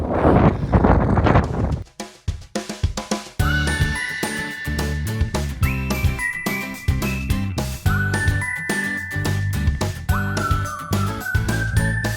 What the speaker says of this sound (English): We've got a good old northerly wind